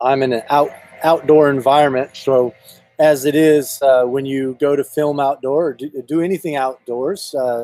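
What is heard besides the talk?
No everyday noises stand out.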